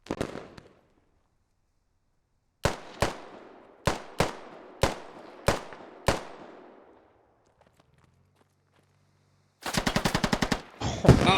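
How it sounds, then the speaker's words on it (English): Machine gun fire from a prone MG on a cabin roof in a Hell Let Loose-style war video game: a lone burst, then seven spaced loud shots, a quiet lull, and a rapid close burst near the end. "A prone MG on a Cabin roof."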